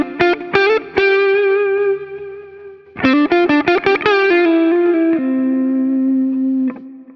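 Electric guitar through a Roland Jazz amp model with Tube Screamer overdrive, playing loud, sustained overdriven chords with sharp picked attacks, a brief pause near the three-second mark, then more strummed chords ringing out alone.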